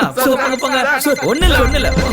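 A mobile phone's ringtone plays continuously under loud, urgent talking in a Tamil-dubbed horror film scene, its melodic electronic tone blending with shouting voices near the microphone.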